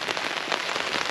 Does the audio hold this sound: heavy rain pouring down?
yes